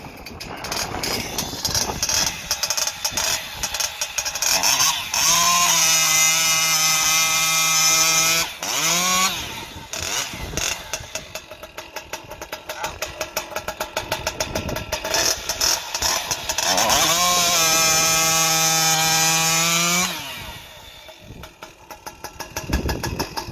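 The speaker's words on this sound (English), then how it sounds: "Gonna cut some noodles with just a sharp chain." A Husqvarna 592 XP chainsaw fitted with a prototype exhaust pipe cuts noodles from wood with a sharp chain, roaring loudly up to full revs twice with idling and throttle blips in between, all close and outdoors in wind.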